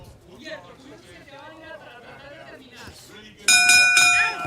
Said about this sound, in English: So there goes the bell.